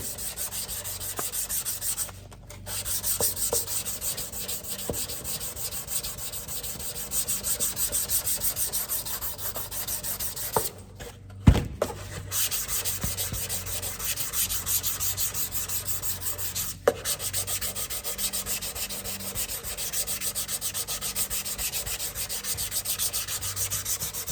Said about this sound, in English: We'll go ahead and do just the front face so I can show you how fast this primer will sand out.